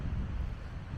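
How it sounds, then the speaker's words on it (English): A brief, steady gust of wind rumbles against the microphone while someone walks outdoors on a blustery day. It stays low and muffled, with no speech. "It's so windy"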